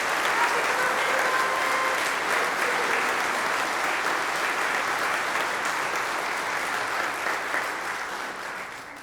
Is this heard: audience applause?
yes